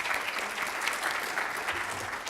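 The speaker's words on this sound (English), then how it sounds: "So a quick round of applause for them." An audience at a public talk on hospitals gives event supporters a round of applause: even, sustained clapping from many people at moderate volume throughout.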